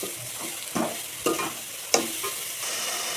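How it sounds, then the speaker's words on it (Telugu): Sugar is stirred into carrot halwa cooking in a pan, with a soft, continuous sizzle and a few distinct scraping strokes spaced about a second apart. "దీన్ని మంచిగా కలుపుకోవాలి మనం"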